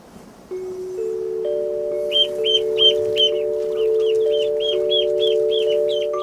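Chicks peep in a rapid series of high calls in a farm poultry hut where newly hatched chickens and ducklings sit, over a steady low hum, fairly close and clear.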